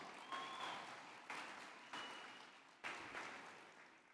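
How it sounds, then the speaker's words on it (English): Applause from a large convention audience fills the room, a dense steady wash of many hands clapping, fairly distant and soft, with a few brief surges and no clear speech. "Let's give them a big round of applause."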